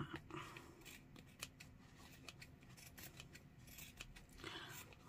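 Scissors trim a handmade journal cover during a craft session, a quiet run of rapid snipping and rustling close by with no speech.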